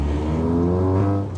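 The track-spec VW Golf R MK7 engine drones loud and close from inside the car while driving, a steady low rumble with rich harmonics and slight rises in pitch.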